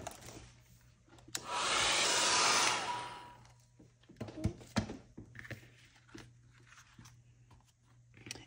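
A hair dryer blows on mixed media paint in a steady, loud whir lasting under two seconds, followed by quieter clicks, rustles and handling noises.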